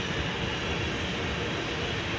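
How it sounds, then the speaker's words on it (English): A train passes nearby with a loud, continuous, deep rumbling roar that holds steady for the whole moment, with no voices. "That train."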